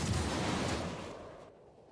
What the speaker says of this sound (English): Fire another 4 missiles.